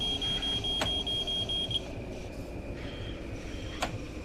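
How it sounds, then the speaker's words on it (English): Warning tone in a Long Island Rail Road cab in Train Sim World 4, a steady high electronic beep running continuously over engine rumble, with two sharp clicks marking the repeat. "your cockpit goes ballistic beeping"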